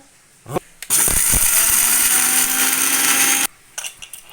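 A kitchen mixer grinder grinds peanuts into powder, a loud steady whirring motor run of about two and a half seconds, starting and stopping abruptly, with brief clatter and speech around it.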